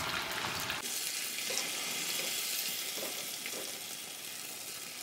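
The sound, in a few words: fish pieces frying in oil with masala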